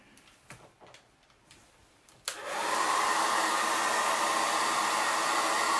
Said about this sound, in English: Let me blow dry him just a tad. Where's the blow dryer?